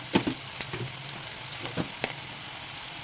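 Ginger garlic paste fries in a pan with a low, steady sizzle, broken by a few soft clinks and scrapes of stirring, close by and without speech.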